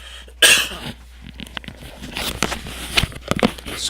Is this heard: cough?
yes